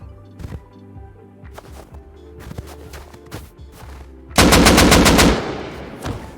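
Gunfire in the video game Rust: scattered distant single shots with echoing tails, then a loud close burst of rapid automatic fire lasting about a second before fading.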